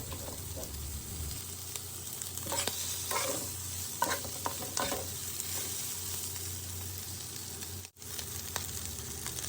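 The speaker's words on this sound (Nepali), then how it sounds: "बेसार एड गर्ने। एड गरेर चलाउने, मज्जाले चलाउने।" Fried liver and meat being stirred with turmeric in a pan, giving a steady sizzle and frying hiss with repeated scraping and stirring strokes throughout, close and alone with no talk.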